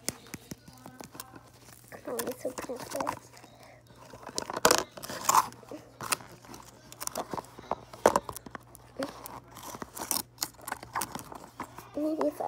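Scissors cut open a package with scattered snips, scrapes and crinkling at close range, while soft speech and whispering run underneath.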